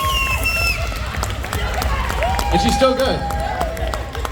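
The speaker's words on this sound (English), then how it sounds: "Yeah, give her a hand of applause, seriously." An audience claps and cheers at a pinup pageant at a tattoo expo, a steady crowd noise running beneath a voice that talks over it throughout.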